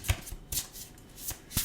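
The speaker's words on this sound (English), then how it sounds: "they needed a good shuffle" Oracle cards being shuffled by hand during a reading, a few quick papery riffles and soft slaps in short bursts, close and clear with no talking.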